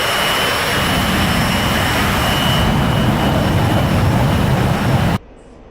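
Su-27 jet engine in the DCS combat flight simulator, a loud steady roaring whine with a high tonal hiss, continuous for about five seconds before cutting off abruptly.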